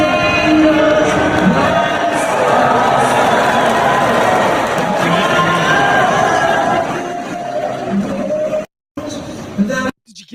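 Large crowd at the O2 Arena in London during a national anthem, a loud sustained roar of voices and jeering that swells for several seconds, then drops out abruptly.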